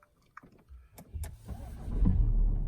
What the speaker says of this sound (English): And the car starts.